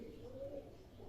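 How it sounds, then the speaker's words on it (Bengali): A domestic pigeon gives a single, steady low coo up close over a quiet background hum. "এই পায়রা গো।"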